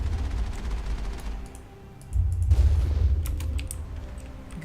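Gunfire in the Mass Effect video game, a quick volley of shots over low rumbling, then a louder burst of blasts, no talking.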